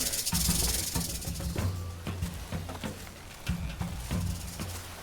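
A snake hisses in the jungle survival game Green Hell, heard in several sharp, repeated bursts over low rhythmic game sounds, fairly close, with no talking.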